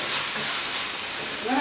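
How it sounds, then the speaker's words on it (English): Eggplant and spices frying quickly in a pan with added water, a loud continuous hiss like steam, close and steady, with a voice briefly at the end. "And this is frying really quickly."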